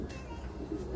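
A racing pigeon hen, kept in a loft of one-loft race stock, gives a short low coo close by, a brief throaty burr with no talking over it.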